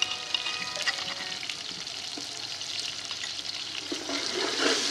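Onions and ginger garlic paste fry in a pot, a quiet, steady sizzle with faint stirring scrapes that swells slightly toward the end.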